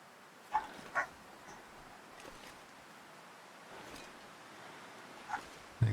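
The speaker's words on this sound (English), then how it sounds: "Now Ruby's barking." Ruby, a pet dog, gives a few separate barks from some distance over a low ambient background, a quick pair of barks early on and a single one near the end.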